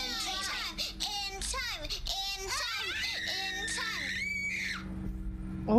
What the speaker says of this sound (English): Oh my god, those screeching sounds.